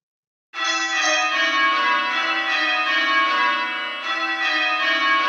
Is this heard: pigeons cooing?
no